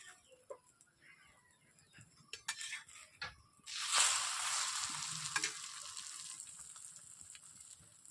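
An egg paratha frying in a pan: a few light taps and scrapes, then a bright, steady sizzle that rises suddenly as egg coating hits the hot pan and keeps hissing, close up.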